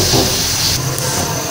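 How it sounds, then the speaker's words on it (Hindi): Barley porridge with mixed fruit coming to a boil in a pot on the stove, a brief, steady close-up hiss of steam and bubbling that eases slightly toward the end. "ये देखिए इसमें उबाल आ गया।"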